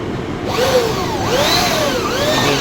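A power drill whirs loudly and up close, its pitch rising and dipping as the bit bites and spins free.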